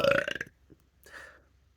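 A loud, rough burp after drinking coconut water, one short guttural belch followed by a softer second burp trailing off, close to the microphone.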